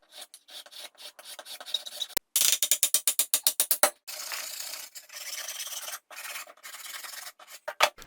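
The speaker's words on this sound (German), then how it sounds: "Vor allem die Flächen, die beim Verleimen aufeinander stehen, sollten vorsichtig geschliffen werden" Wooden chair joint surfaces hand-sanded before gluing, close raspy strokes in irregular bursts with a fast run of short rhythmic rubs in the middle, quiet pauses between, no speech.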